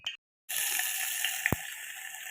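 Water pours steadily into a cooking pot for sweet khichdi made with rice, ghee, cumin, bay leaf and ginger, a continuous close splashing stream after a short pause, with a single metallic clink partway through.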